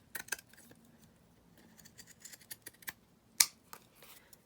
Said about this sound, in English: I'm just going to snip that off there, and then I'm just going to snip this down the side